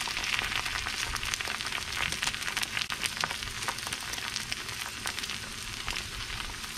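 Eggs frying over easy in a pan alongside nearly finished fries, a steady close crackling sizzle that runs on unbroken with sharp pops scattered throughout.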